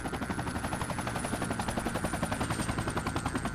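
A helicopter in the military shooter Project Reality thumps overhead with rapid, pulsing rotor beats, loud and close, a continuous throbbing drone with a high whine on top.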